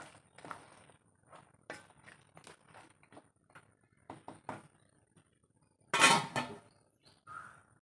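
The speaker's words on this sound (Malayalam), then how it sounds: "ഒന്ന് ഇളക്കി കൊടുക്കാം നമുക്ക്." A spoon stirs a homemade chicken remedy in a pot on the stove, producing sparse, faint metallic scrapes and clinks with quiet gaps, plus one louder clattering burst toward the end.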